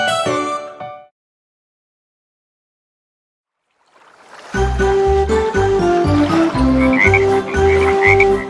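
Several frogs croak in a dense chorus over a steady watery background, close and loud. A short tinkling musical snippet plays first, then a few seconds of silence come before the croaking begins.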